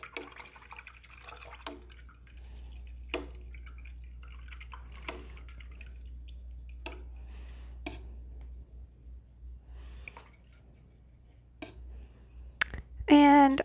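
A paintbrush is rinsed in water during acrylic painting, with soft scattered dabs and drips over a low background hum and a louder splash at the very end.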